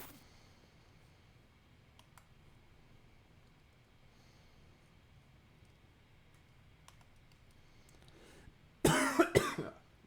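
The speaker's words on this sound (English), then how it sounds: "So if you hear me coughing," After a long quiet stretch with faint clicks, a person coughs hard a few times in quick succession, loud and close.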